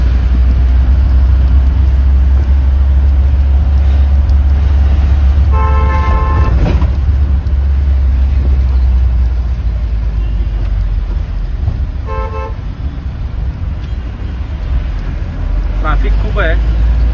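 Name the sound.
Mumbai road traffic with car horns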